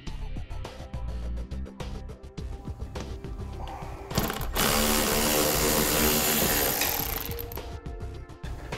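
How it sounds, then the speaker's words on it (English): A power tool whirs in short bursts as it backs a Torx fastener out of the inner wheel well liner of a 2014 Ford Fiesta. After the bursts come a few clicks and handling noises, then a steady louder hiss-like noise that carries through the later part. "we'll go ahead and remove the Torx bit fastener"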